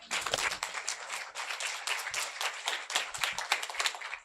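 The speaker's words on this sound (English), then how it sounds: "I would like people to give final applause." An audience claps at a conference day, a brisk, moderately loud patter of many hands with individual claps standing out, continuing unbroken for a few seconds with no talk over it.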